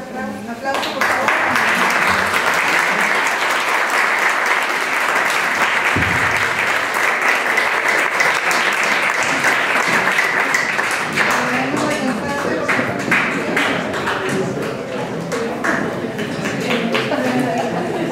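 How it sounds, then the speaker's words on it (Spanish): Sustained, loud applause from a large audience at an academic talk on psychology training and careers, dense clapping filling the whole stretch with a slight thinning toward the end. "les pido que demos un fuerte aplauso, por favor"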